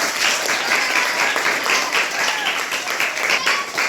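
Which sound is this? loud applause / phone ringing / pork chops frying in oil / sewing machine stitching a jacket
loud applause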